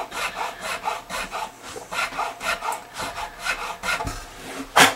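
A Hosco nut file works a slot in the nut of an American Fender Stratocaster, giving a run of quick, even rasping strokes close up, roughly evenly spaced, with no talking.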